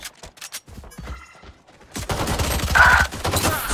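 Frenzy pistol fire in the Valorant video game, crackling as a dense string of rapid shots in the second half after sparse clicks and movement, fairly loud and up close with no talking.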